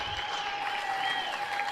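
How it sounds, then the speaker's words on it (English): Round of applause from an audience at a Peter Mokaba memorial lecture in Mogwase, steady dense clapping filling the hall at moderate loudness, with a faint tone audible beneath. "I want us to give them a good round of applause"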